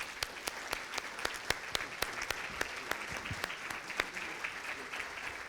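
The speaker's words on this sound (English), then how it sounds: "Let's give our panel a round of applause." An audience at a higher education panel event applauding, with dense steady clapping from many hands and sharp individual claps standing out, sustained for several seconds at moderate distance.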